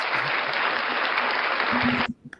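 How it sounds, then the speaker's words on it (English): Dense audience applause fills the room steadily at close range, then stops abruptly, leaving a brief murmur. "Round of applause for Debo's Nation"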